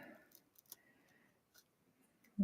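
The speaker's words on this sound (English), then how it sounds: "you can just take a blade or some scissors and cut that to size" Scissors cut to size, making a few quiet, close snips and clicks scattered through a mostly hushed stretch, ending with a louder thump.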